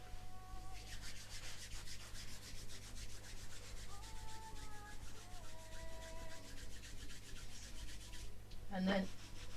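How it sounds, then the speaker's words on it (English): Hands rubbed together in a steady dry friction during a Chen style health and Yiquan exercise session, a soft continuous brushing close by, over a low steady hum, with a brief sharper sound near the end. "Rub the hands together."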